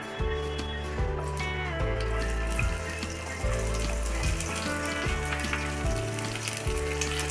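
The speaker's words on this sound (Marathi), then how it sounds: "त्याच्यामध्ये आपण कांदा भाजून घेऊ" Onion frying in oil in a pan for a black-masala egg curry, a loud continuous sizzle with a rhythmic background pattern and no talking.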